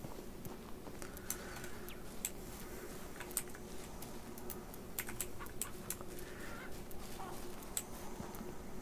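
Farm chickens and a rooster cluck faintly in the Ranch Simulator video game, their calls half buried under steady, close computer keyboard typing and clicking.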